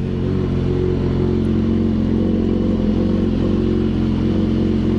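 A 2012 limited-edition BMW S1000RR superbike engine revving hard, a loud, steady, close-up roar held throughout with a clattering mechanical edge and no speech.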